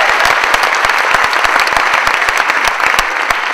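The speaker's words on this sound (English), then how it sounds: "Everyone's going to clap for you. Give her a big hand." Audience applause at a live Peter Panic show in Madison: steady, dense clapping from a crowd, with sharp individual claps standing out throughout.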